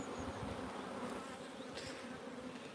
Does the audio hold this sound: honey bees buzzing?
yes